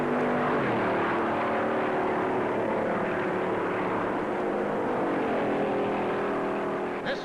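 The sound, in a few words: 1956 stock cars racing at Darlington, Chrysler passing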